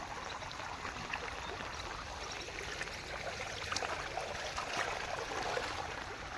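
Heavy monsoon rain pours down steadily in a village, a dense, even rushing wash of water that holds at a constant loud level with no voices.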